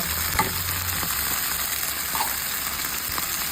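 Sardines frying and being stirred in a pan for spicy Spanish pasta, a loud continuous sizzle close up with occasional scraping knocks of the spoon.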